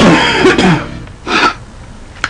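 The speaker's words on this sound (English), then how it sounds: "Again, I apologize for the cough." A person coughs during a Super Mario 64 play session: a rough burst of coughs up front, then a single harsher cough a moment later, close to the microphone.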